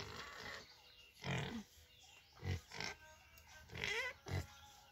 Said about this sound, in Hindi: देखिए कितना सारा सुअर है उसको